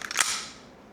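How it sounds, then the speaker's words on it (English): Aftermarket trigger on a Glock pistol dry-fired once, giving a sharp, close metallic snap followed by a short fading ring. "I've got the Johnny Glock trigger installed. And let's see, here's what it sounds like."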